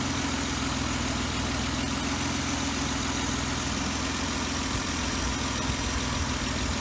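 A 2009 Jeep Wrangler JK engine idles steadily with a newly fitted cold air intake, giving a continuous, even rumble with a low hum and broadband hiss at a constant level throughout.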